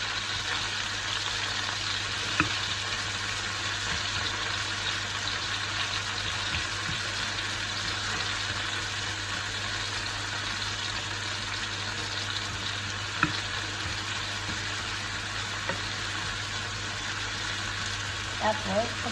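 Mushrooms fry in a pan for a home lunch dish, a soft, even sizzle running steadily at moderate distance with a few faint clicks of a utensil and no talking.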